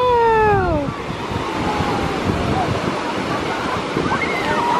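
Ocean waves wash continuously onto a sunny beach, a loud, steady surf roar with wind buffeting the microphone and a brief whistle-like tone at the start.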